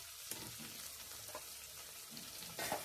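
Pieces cooking with ginger in a pan, sizzling in a quiet, steady hiss with light stirring sounds over it.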